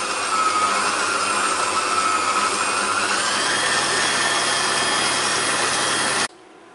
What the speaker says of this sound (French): Je mets donc mon batteur en marche en moyenne vitesse.